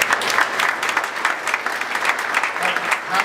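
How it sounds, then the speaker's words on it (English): An audience applauds, a dense burst of clapping that stays steady and fairly close throughout. "let's give a quick round of applause to the spouses who brought their pilots to this thing."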